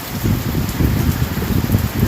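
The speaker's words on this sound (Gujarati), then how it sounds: "આ છે રાતનો વરસાદ।" Heavy night rain in Junagadh, with strong wind: a dense, steady downpour drumming on surfaces, close and loud throughout, with no voices.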